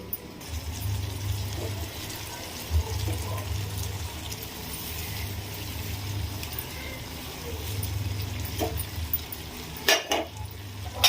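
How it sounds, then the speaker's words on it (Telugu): Eggplant curry with dried tamarind leaves is stirred in a pan, a low steady sizzle with occasional scrapes and taps of the spoon, fairly faint, a few sharper clinks near the end. "ఇది ఒకసారి మంచిగా కలుపుకోవాలి."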